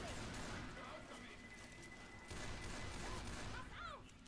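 Gunfire in Left 4 Dead 2, bursts of shots crackling faintly in a dense, busy fight, with people talking over it.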